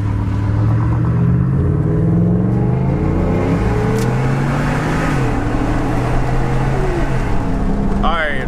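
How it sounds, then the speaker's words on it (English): A Ford F-150 pickup truck drives fast, its engine droning loudly and steadily with shifting pitch and road rumble throughout. "Man, this truck's flying."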